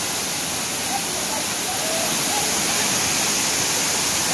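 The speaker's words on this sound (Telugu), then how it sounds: "గండహతి వాటర్ ఫాల్స్" Gandahati waterfall in Gajapati district, Odisha, roars as a dense, unbroken wash of rushing water, loud and close throughout.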